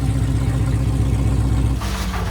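A Hellcat-swapped 2010 Dodge Charger running on nitrous during a qualifying pass, with a loud, close, steady engine drone that abruptly shifts tone and thins out near the end.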